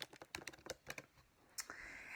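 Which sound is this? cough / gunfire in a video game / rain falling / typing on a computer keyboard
typing on a computer keyboard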